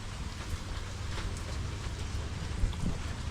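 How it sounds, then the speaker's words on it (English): Steady rain falls outdoors beside a 1989 box Chevy project, a constant broadband patter with low rumble, no talk. "but it's raining"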